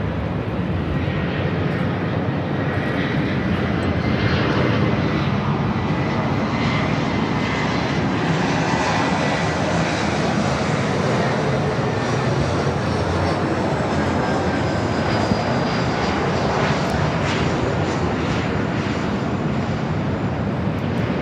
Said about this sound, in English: Flight heading to Denver, flight 1049, and this old Northwest A320.